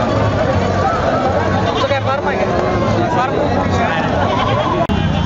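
Sheep and goats bleat repeatedly amid the busy, noisy Sangola goat and sheep market, with crowd chatter and voices filling the background.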